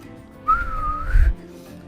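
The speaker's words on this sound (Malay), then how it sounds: "Hanya dengan bersiul, tidak perlu menjerit, mereka boleh berkomunikasi dengan jiran diorang." A short whistled-language greeting: one sustained mid-pitched tone with a slight rise and fall, lasting about a second, clear and close with no talking.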